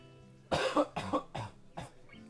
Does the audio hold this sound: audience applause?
no